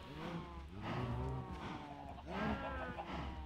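Minecraft cows lowing in a steady low drone with several harmonic moo swells, one around the middle and another near the end, heard close over a constant background hum.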